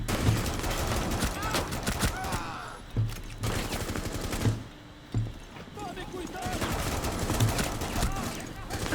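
Rapid gunfire from a first-person shooter game played on an RTX 2070 gaming laptop, dense bursts and single shots running through nearly the whole stretch, loud and close, with brief gaps and a player's voice talking over it.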